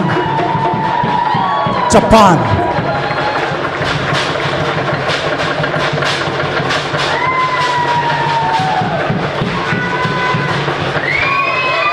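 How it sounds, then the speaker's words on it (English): Spectators at an international Siva Afi fire knife dance competition clap and cheer. The applause is loud and continuous, with whistles and crowd noise rising over it, and a voice talks briefly above the din. "Let's give a nice round of applause one more time for Noah"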